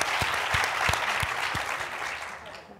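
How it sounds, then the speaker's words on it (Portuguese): Applause for a panelist at a debate panel, a short burst of steady clapping from a small audience that holds for the full stretch and then tapers off slightly at the end. "Palmas para o Gabriel."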